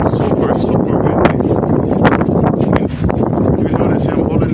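Strong gusts batter an outdoor microphone, producing a loud, continuous roaring buffet with irregular surges and dips throughout.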